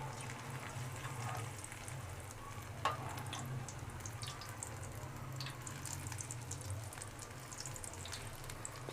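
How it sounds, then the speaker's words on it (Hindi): Potato cutlets frying a few pieces at a time in hot oil, a soft, steady sizzle with light crackles and one small spatter, close but fairly quiet. "ये कम कम ही डाल के इसको फ्राई करना है"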